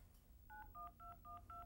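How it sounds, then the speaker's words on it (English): A portable computer speaker from the mid-1990s auto-dials a phone number, playing five crisp evenly spaced touch-tone beeps in quick succession, faint over a low background hum with no talk. "one of the things you can do with that speaker is you can dial people's phone numbers automatically"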